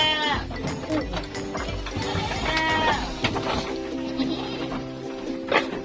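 Female goats being fattened bleat repeatedly in a pen, several overlapping calls near and loud, mixed with clanking and rattling noises in the background.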